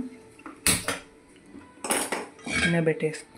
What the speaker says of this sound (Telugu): కళాయి పెట్టేసుకుందాం.